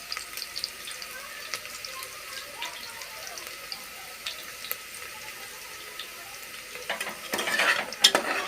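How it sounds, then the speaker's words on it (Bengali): Onions frying in oil in a home kitchen, a steady soft sizzle with occasional stirring scrapes, growing louder and busier toward the end, with no talk. "দেখুন বন্ধুরা, পেঁয়াজটা ভাজা ভাজা হয়ে এলে"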